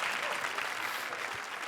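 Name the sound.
studio audience applause on comedy show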